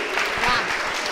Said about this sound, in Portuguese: Uma salva de palmas pro João.